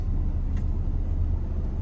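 A car driving during a licence driving test in Saudi Arabia, a steady low engine and road rumble heard from nearby without any voices.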